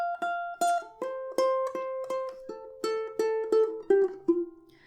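A ukulele plays a fingerpicked tune from Hamilton with the index finger alone, a steady run of about a dozen plucked notes, each crisp attack followed by a short slide along the fretboard into the next pitch.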